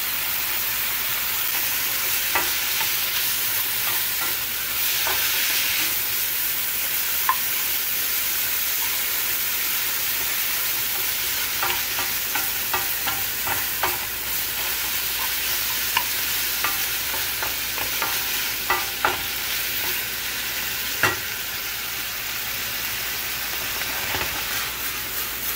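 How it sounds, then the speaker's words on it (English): Thin strips of beef and broccoli stems frying in a hot pan give a steady, loud sizzle throughout, with occasional sharp pops and scraping clicks breaking through the hiss. "it's really thin beef, so it's cooking rather quickly"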